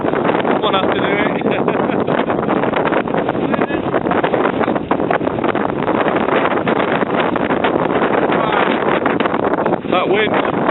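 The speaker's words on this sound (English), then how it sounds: "That wind." Strong wind on the Coniston Old Man fell roars and buffets against the microphone, steady and loud throughout, with a faint voice occasionally audible under it.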